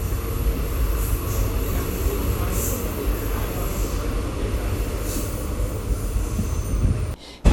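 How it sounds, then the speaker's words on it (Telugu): The Madurai–Trivandrum InterCity Express pulls away from a station, a loud continuous rumble of wheels and carriages with faint high squealing above it. The sound runs steadily until a sudden cutoff near the end. "2 నిమిషాల హాల్ట్ తర్వాత మన ట్రైన్ తిరిగి బయలుదేరింది"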